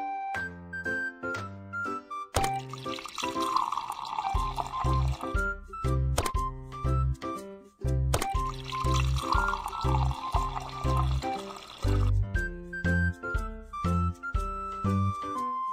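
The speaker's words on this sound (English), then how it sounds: "let's add different amounts of water into three glasses" Water poured into three glasses in the children's game Little Panda's Learning Academy, bright liquid pouring sounds in two main bursts over a bouncy background music track with layered tones.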